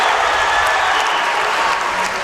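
Standing ovation from a crowd in a high school gym after the national anthem at a boys basketball game, a steady, dense wash of clapping and crowd noise, loud and sustained throughout.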